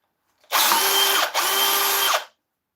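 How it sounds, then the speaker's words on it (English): A drill driver whines in two quick bursts separated by a brief dip, backing out screws from a lathe faceplate during oak woodturning; loud, close and high-pitched, with silence before and after. "with a drill driver"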